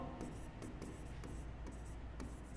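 Pen scratching on paper while solving a probability problem, steady soft strokes with brief pauses, fairly faint and close.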